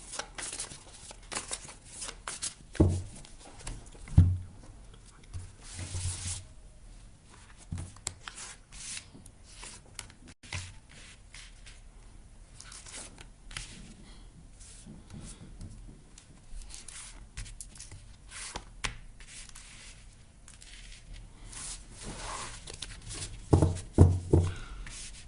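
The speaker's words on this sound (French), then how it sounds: "Je remélange bien votre jeu juste avant de faire le tirage." A tarot deck is reshuffled by hand, giving soft, repeated riffling and rubbing card sounds in uneven bursts, fairly close and quiet, with occasional louder taps.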